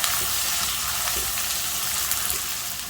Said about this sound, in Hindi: बस 5 मिनट इसको फ्राई करना है